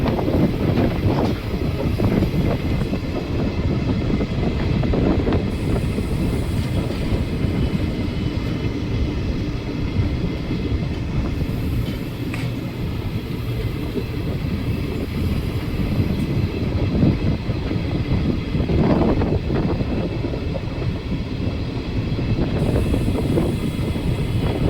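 Continuous low rumble and rattle of a passenger train running on rails near Guntakal Junction, steady and loud throughout with wind buffeting over the microphone and no talk.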